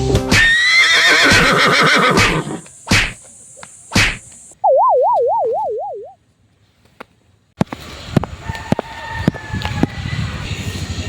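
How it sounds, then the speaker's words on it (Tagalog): A horse whinnies loudly several times among sharp whip-like cracks as it is struck to tame it. A wavering synthetic tone follows, then silence, and the clip ends with busier clattering noises. "Juan, upang mabilis mong mapaamo ang kabayo, kailangan mo siyang hampasin ito sa ulo at sa likod."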